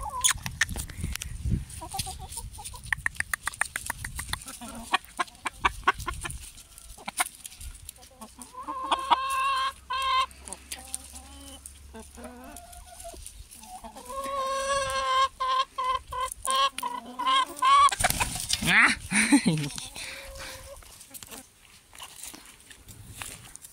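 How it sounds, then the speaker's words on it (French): Hens cluck and squawk in a backyard chicken coop during an egg check, with repeated close calls building into a louder burst of excited fowl noise near the end. "Bon, on va aller voir s'il y a des petits œufs, les petits cocos. Eh, les cocottes."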